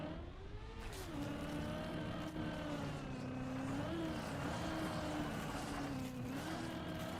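In the Trackmania racing game, a car engine revs steadily and high while climbing a wall, its droning whine rising and dipping slightly in pitch for several seconds, continuous and close.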